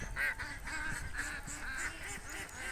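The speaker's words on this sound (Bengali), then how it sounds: "সকালবেলা আমাদের হাঁসগুলোকে পুকুরে ছেড়ে দেওয়া হয়েছে" Ducks on a pond in the morning honk and quack in a repeated rhythmic run of nasal calls over a low background murmur, moderately close and clear.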